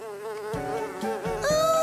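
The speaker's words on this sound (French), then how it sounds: "Regarde une mouche!" A cartoon fly buzzes steadily up close for about two seconds, its drone wavering and rising in pitch near the end, with no talking over it.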